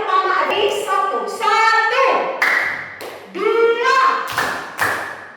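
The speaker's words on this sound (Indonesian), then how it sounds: "Jadi tepukan itu harus disesuaikan dengan angkanya." Children in a classroom counting game clap their hands in time with the numbers: a few short, crisp claps mixed with children's voices counting aloud nearby.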